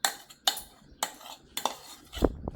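Pakoda batter with a little coriander being stirred into soaked poha in a bowl: a few spaced metallic clinks and scrapes of a spoon against the dish, close and fairly quiet.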